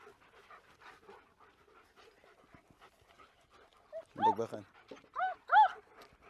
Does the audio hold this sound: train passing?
no